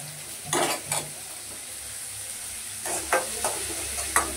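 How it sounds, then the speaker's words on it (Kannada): Onions frying until brown for a dry fish fry, with a faint steady sizzle and a few short bursts of stirring scrapes near the start and end. "ಚೆನ್ನಾಗಿ ಬ್ರೌನ್ ಕಲರ್ ಬರಬೇಕು ಆನಿಯನ್, ಅದುವರೆಗೂ ಫುಲ್ಲು ಚೆನ್ನಾಗಿ ಫ್ರೈ ಮಾಡಬೇಕು ನೀವು ಅದನ್ನು."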